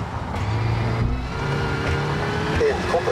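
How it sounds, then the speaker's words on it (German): A damaged Skoda Fabia R5 rally car engine in the WRC 5 racing game, on the Italy rally, drones steadily and roughly up close while someone talks over it. "Klingt auf jeden Fall nicht gesund, der Wagen."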